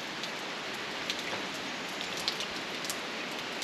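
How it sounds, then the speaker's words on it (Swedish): Rain falls steadily during a day on the Annapurna Circuit trek in Nepal, between Pokhara and Bahundanda, with a soft, even hiss and a few sharper drips on a surface. "Det regnar rätt mycket."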